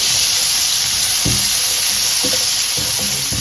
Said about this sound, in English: In the same pan, guys, we'll go ahead and fry the garnish.